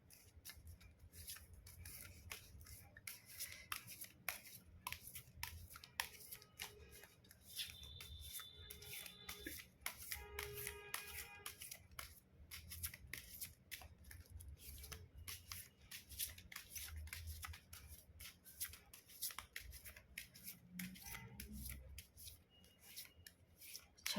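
Tarot cards shuffled by hand during a relationship reading, a steady riffling, rubbing patter of card edges that runs close and soft for the whole stretch, with no talking.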